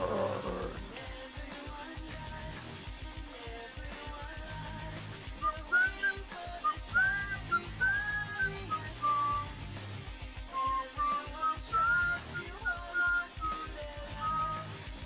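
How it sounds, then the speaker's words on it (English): A person whistles a wandering melody of short rising and falling phrases, moderately close, over a steady background of music with a low rhythmic pulse. "I can whistle again."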